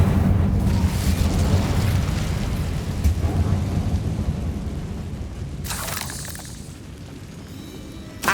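An Incendio fire spell cast in the Hogwarts Legacy video game, a sustained roaring, rumbling whoosh like flames or an eruption that stays loud throughout, with a brief bright crackling burst near the end.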